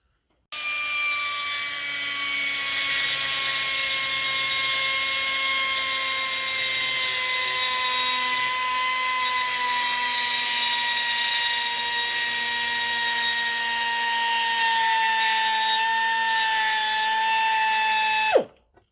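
A power tool grinds a keychain at an angle, a steady high-pitched whine with a gradually sinking pitch that holds for about eighteen seconds before spinning down abruptly, loud and close with no talking.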